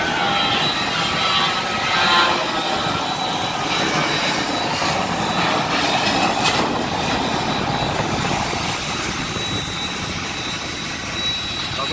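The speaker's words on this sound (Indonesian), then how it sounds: "di sini kita bisa puas ngeliatin pesawat take off landing tuh, bannya baru diangkat" Jet airplane taking off at Halim Perdanakusuma airport, heard as a continuous loud engine roar that swells and slowly fades while it climbs away, with no voices over it.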